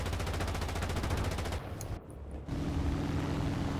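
Rapid machine-gun bursts from an aircraft gunner's position aboard a Do-217 N-1 bomber in War Thunder, a dense rattling stream over steady engine drone, with a brief break near the middle before firing resumes.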